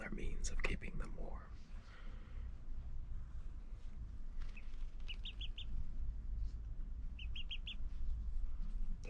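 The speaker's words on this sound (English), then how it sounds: "They're both chirping now, which is a good sign." Quiet, high-pitched peeping of two rescued ducklings in short bursts of three or four, with soft whispering and rustling close by.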